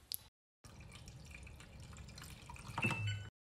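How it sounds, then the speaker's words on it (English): Water poured from a container into a steamer pan for cooking frozen vegetable gyoza, a steady splashing pour lasting about two and a half seconds after a brief drip, ending with a louder rush before stopping. "put the water in"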